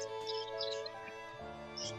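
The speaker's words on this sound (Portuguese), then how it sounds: "Aliás, tem aí passarinho, né? Eles estão com a gente aí." Small birds chirp in short, bright tweets outdoors beside a river, the calls scattered and moderately faint with a soft voice-like murmur underneath.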